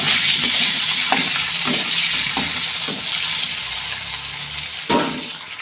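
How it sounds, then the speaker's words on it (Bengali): Potatoes sizzle as they fry until browned in hot oil for a rohu fish curry, a loud, steady crackle punctuated by several stirring scrapes and clinks from a utensil. "আলুটা লাল করে ভেজে নেব"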